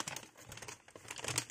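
Sheets of holographic scrapbooking paper crinkle and rustle in quick, close handling bursts, quiet and crisp, with no talking.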